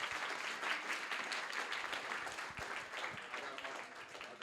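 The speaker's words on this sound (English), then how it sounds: "Big round of applause for Rick from SocialChain and Matt from Brav" An audience at a talk on AI and advertising strategy breaks into steady, dense applause, continuous clapping from a sizeable crowd heard close and even throughout.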